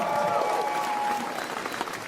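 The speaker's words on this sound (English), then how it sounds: "All right, now round of applause." A stand-up comedy audience breaks into loud, dense applause that stays broad and steady, easing slightly toward the end.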